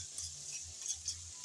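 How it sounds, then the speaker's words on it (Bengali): Potato and carrot pieces stirred in a pan, a few low rhythmic scraping strokes of a spoon against the metal over a faint sizzle, close and quiet, ending with a sharp clink. "নেড়ে চেড়ে ভালোভাবে মিশিয়ে নিলাম।"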